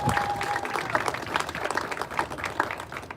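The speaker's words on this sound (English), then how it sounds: "You should clap." A commencement audience at a university's first graduation claps, uneven bursts of applause with a few cheers and murmured voices in a large room.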